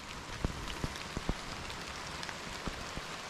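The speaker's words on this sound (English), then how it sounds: "If you can hear that, it's like pretty heavy rain actually." Heavy rain falls steadily at a truck campsite at night, a dense close hiss with scattered louder drops pattering on the surface.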